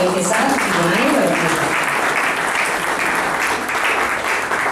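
Loud, dense applause fills a hall at a book launch, a continuous wash of many hands clapping close by without a break, with some voices mixed into the crowd noise.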